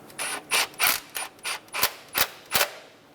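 A ratchet snugs down a 10mm ignition coil bolt on a Toyota Tundra, eight close, crisp clicking bursts in a steady back-and-forth rhythm, alone with no talk.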